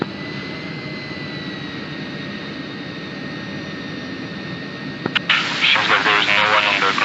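A military jet taxiing at Nellis in a flight simulator game, a steady engine whine with a faint high tone under radio chatter, then a sudden burst of broadband hiss near the end.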